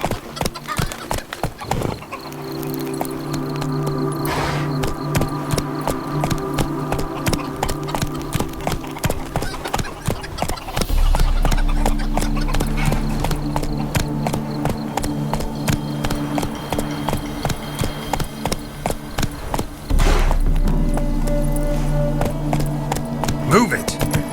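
Roach the horse gallops in the video game The Witcher 3, a steady run of clip-clopping hooves with an occasional whinny, continuous and fairly loud under game music and scattered voices.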